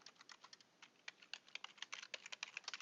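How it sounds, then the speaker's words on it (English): Typing on a computer keyboard while entering a web address in Chrome, a quick irregular run of soft key clicks that grows busier and louder toward the end, close and with no voices. "and we're going to type"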